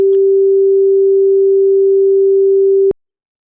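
A synthesized pure sine tone set to the musical note sol holds perfectly steady for about three seconds, then stops abruptly with a faint click, alone and loud.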